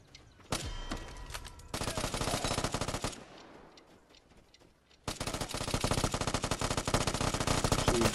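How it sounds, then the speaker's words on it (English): Rapid automatic gunfire from the online shooter game Vigor rattles in long, dense bursts, loud and close, with a brief lull of scattered shots between two sustained volleys. "Everybody shooting."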